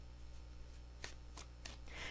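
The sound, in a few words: shuffling tarot cards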